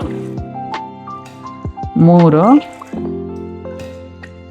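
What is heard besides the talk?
cups of water poured into pot for bisibele bath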